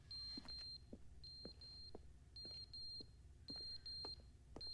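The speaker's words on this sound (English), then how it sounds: "Where is the beeping coming from?" Shrill electronic beeping in the video game The Stanley Parable: Ultra Deluxe, a quiet repeating pattern of short high-pitched beeps in pairs and triplets, evenly spaced with brief pauses between groups.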